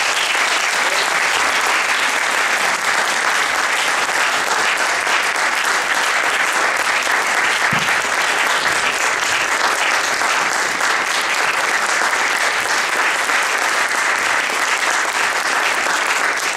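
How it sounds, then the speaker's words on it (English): A classroom audience claps at the close of an evening event, a dense and loud round of applause that carries on steadily for the whole stretch, with no voices rising above it. "give a wonderful round of applause"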